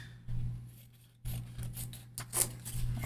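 Scissors snip and rustle through paper while trimming around momigami frames, a few close, soft cutting strokes under a low steady hum.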